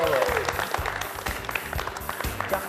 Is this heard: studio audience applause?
yes